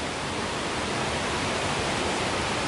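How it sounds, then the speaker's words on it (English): The Kawazu Seven Waterfalls in Japan roar loud and close, a dense, unbroken rush of falling water with no other sounds. "we're currently at some very loud waterfalls"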